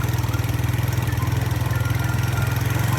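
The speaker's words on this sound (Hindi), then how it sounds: "मेरी मोटरसाइकिल की आवाज़ का" A motorcycle engine running at a steady idle-like pace with a rapid, even low putter that pulses continuously, near and fairly loud, with no talk.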